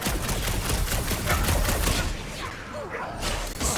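Dense video game gunfire from Guardians of the Galaxy, rapid overlapping shots rattling loudly and continuously for a few seconds, briefly thinning out before resuming, up close and dominating the scene.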